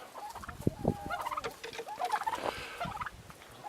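Turkeys gobble in rapid, warbling bursts at moderate distance, mixed with softer clucks and scratching from other birds nearby.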